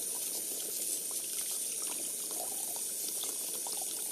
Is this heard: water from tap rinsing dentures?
yes